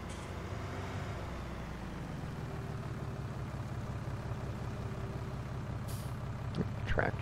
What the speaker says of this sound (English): Tractor brakes work.